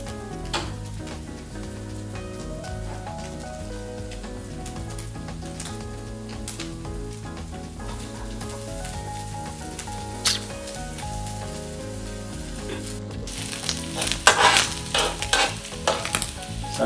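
Onion frying in a pan while pheasant meat cooks for tacos, with a soft continuous sizzle, occasional stirring clicks and sharper crackles near the end.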